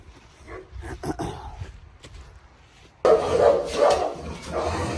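Dog barking: a few scattered yips and barks in the first seconds, then a louder, denser burst of barking near the end, fairly close.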